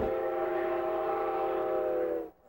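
A White Pass and Yukon Route passenger train in Skagway, Alaska sounds a single long, steady horn blast, loud and harmonic, cutting off abruptly at the end.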